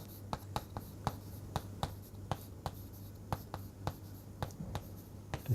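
Chalk or marker scratches and taps across a board while someone writes out an index transformation, a run of crisp, quick strokes in an irregular rhythm, close and fairly quiet against a low steady hum.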